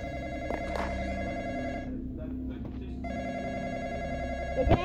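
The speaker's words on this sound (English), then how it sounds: "Go answer the phone this time." A telephone bell rings in repeated electronic trills, stopping briefly in the middle and then resuming, with voices talking nearby and a clattering knock at the very end.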